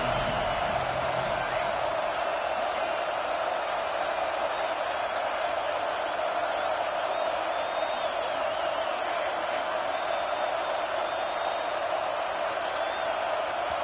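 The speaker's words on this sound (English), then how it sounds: "with this place rocking, the crowd forces a false start" A loud, roaring football stadium crowd at an Oklahoma Sooners game keeps up a dense, constant wall of noise. It rises enough to force a false start and holds steady without a break.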